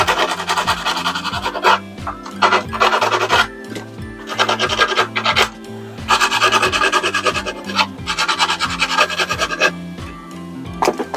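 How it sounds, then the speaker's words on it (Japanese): Hand file smoothing a freshly cut edge during a camper van solar wiring job, steady back-and-forth rasping strokes in repeated bursts with short pauses, close and loud, over a constant low background tone. "あとはヤスリで削ればいいのか"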